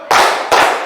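A classroom group claps twice together during a teacher-training session on positive school culture, two loud, sharp unison bursts about half a second apart.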